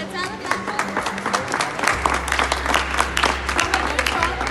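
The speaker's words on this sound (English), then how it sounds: "let's have a clap for her" An audience claps for a young female racer at an event, producing a dense, lively burst of applause that stays close and steady, with a low hum underneath and faint talk mixed in.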